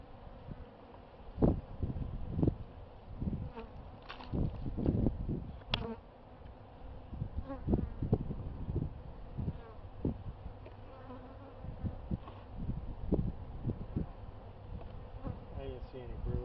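Honey bees buzz steadily around an open beehive during an inspection, with individual bees droning close past in repeated loud swells over a constant hum, no talking.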